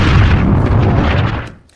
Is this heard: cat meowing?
no